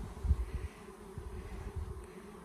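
Honeybees buzz in a steady low drone around queens with attendants held in a queen bank in southern Arizona, a close, continuous hum with soft fluctuating pulses and no talking.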